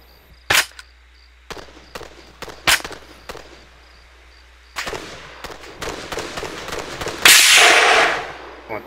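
Sharp video game gunshots from Arma 3 crack in scattered bursts, some single and some in quick runs, ending in a loud, hissing blast over faint background noise.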